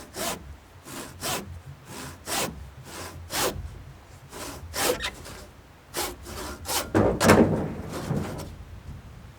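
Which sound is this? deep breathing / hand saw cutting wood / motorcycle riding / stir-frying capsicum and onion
hand saw cutting wood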